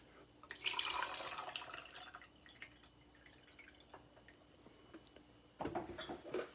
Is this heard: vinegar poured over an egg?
yes